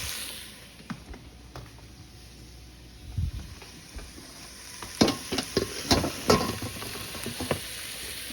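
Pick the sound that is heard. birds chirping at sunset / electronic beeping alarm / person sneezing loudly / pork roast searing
pork roast searing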